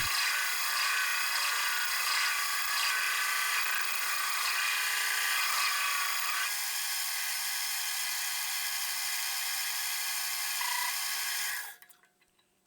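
A hex nut being beveled into a ring on a ring mandrel with a steady, loud abrasive grinding that runs continuously for about eleven seconds, then cuts off abruptly.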